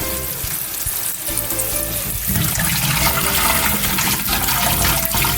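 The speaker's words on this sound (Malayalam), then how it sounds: "ഞാനിവിടെ ഡയറക്റ്റ് പൈപ്പിൽ നിന്നാണ് വെള്ളം വിടുന്നത്" Steady rushing water from a tap onto drained pasta, a continuous broad hiss with faint clatter, running loud and unbroken throughout.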